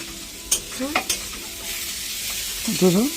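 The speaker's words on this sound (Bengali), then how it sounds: "আর পেঁয়াজ ভাজা হচ্ছে এটা আর এখানে লাল লাল করে ভাজবো" Onions fry in a pan for biryani, a steady sizzle with stirring clinks near the start, while a person's voice rises in brief melodic phrases over the cooking.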